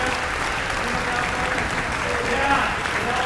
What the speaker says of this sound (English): Could I please have a round of applause for all the board members and volunteers?